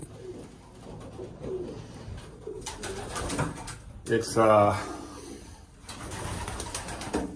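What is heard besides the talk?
pigeons cooing in a loft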